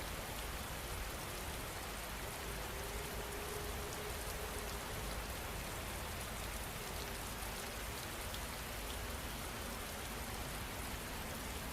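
Soft, steady rain falls in an even, unbroken patter, quiet and evenly spread throughout, with no voices.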